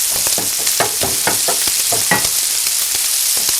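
Ginger and green onion stir-fry in a hot wok for kung pao shrimp, with a constant loud sizzle and a quick rhythmic run of spatula scrapes and tosses, close and with no talking.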